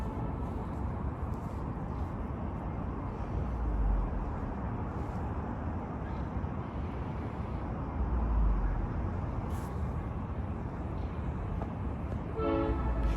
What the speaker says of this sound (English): It sounds like the train is coming